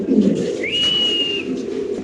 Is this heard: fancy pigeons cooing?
yes